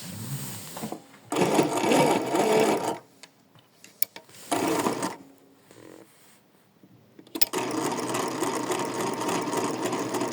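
A sewing machine runs in bursts as it stitches a straight seam about 2 mm in, sustained whirring runs separated by quiet pauses, close by.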